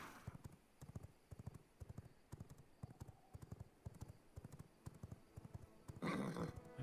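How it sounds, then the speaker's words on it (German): Horse hooves trot in the video game Vampire Rising, a quiet, regular clip-clop pattern of repeated hoofbeats that ends in a louder noisy burst. "Oh, mein Pferd hat Driftprobleme."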